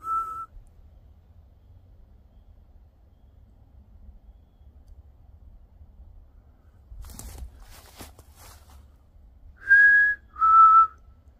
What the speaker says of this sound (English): That's a crappy whistle.